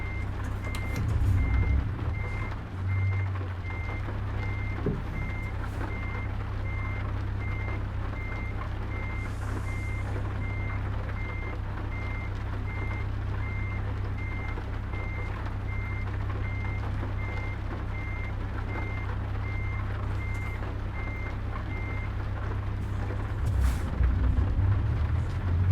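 Reversing alarm on a truck in a truck simulator game beeps steadily at an even pace for the whole stretch, over a loud, constant low engine drone, with no talk.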